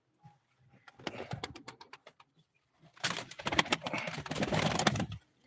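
Pigeons coo and flutter close by at a live pigeon auction, a first burst of rapid clicking calls followed by a louder, denser stretch of cooing and rustling that then stops.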